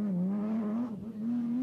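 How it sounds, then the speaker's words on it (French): A 450 hp BMW M1 Group B rally car drives past with a loud, steady engine drone that dips briefly midway before climbing again, close and without talk. "Béguin met de 450 pk sterke BMW bekleedt de tweede plaats"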